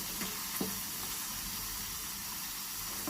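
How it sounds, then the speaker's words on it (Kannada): Vegetables frying in coconut oil in a pan, a steady, dense sizzle that holds evenly throughout with a couple of faint utensil taps. "ಚೆನ್ನಾಗಿ ಫ್ರೈ ಮಾಡ್ತಾನೆ ಇರಬೇಕು ಕೊಬ್ಬರಿ ಎಣ್ಣೆ ಜೊತೆಗೆ"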